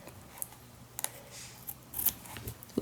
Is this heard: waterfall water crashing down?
no